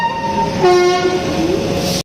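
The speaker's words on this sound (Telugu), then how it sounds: "సో కరెక్ట్గా లెవెన్ ట్వంటీ ఫైవ్కి హార్న్ ఇచ్చారు" A departing train's horn sounds close and loud, a long sustained blast that shifts pitch partway through, over the rumble of the train.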